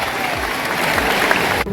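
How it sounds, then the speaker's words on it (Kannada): Loud, continuous applause from an audience at a school talent award event, a dense steady clatter of many hands that breaks off briefly near the end. "ಚಪ್ಪಾಳೆ, ಜೋರಾಗಿ ಚಪ್ಪಾಳೆ."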